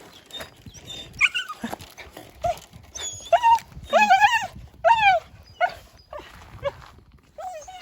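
Happy dogs whimper, yip and bark in a run of excited bursts, close and fairly loud, with soft rustling between the cries.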